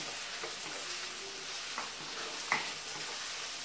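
Tomatoes sauté in hot oil in a pan for a fish kulambu, giving a steady soft sizzle with a few light scraping stirs at intervals and no voices.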